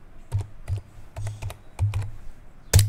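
Keys clack on a computer keyboard as a command is typed, about seven or eight crisp, close taps in an uneven rhythm ending on a firmer final press.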